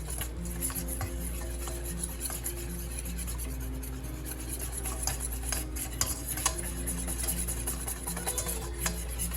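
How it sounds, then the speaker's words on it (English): A whisk scrapes and stirs frosting in a bowl for banana bread brownies, a steady close rhythmic rasping and clinking against the bowl that goes on throughout with no talk. "It's best to do this with a whisk so then you can get all the little clumps out."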